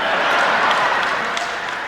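An audience at a political speech claps steadily, a dense, continuous wash of applause that fades only slightly over about two seconds.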